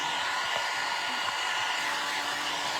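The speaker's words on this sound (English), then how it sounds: "The heat tool is your best friend when it comes to milk paint." A heat tool blows steadily on milk-painted furniture, a continuous close whooshing hiss of air with no pauses.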